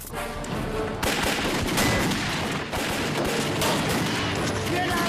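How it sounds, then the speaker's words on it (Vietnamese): Dense gunfire in a border gang action film, overlapping shots and bursts crackling almost continuously, loud and close, with a brief dip near the start before the firing resumes. "Tiếng súng đó ở đâu vậy?"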